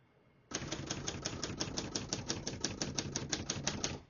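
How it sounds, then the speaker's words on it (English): Steady keystrokes on a 1970 Hermes 3000 portable typewriter clack close and crisp at a brisk, even pace, about two dozen sharp strikes in a row after a short quiet start. "We're going to keep that on single for now and finish typing."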